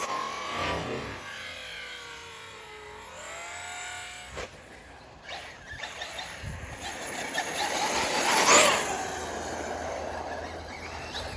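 Arrma Fireteam BLX 6s RC car on wet tires, its electric motor whining and revving in bursts that come and go, peaking sharply as the car passes close, then trailing off.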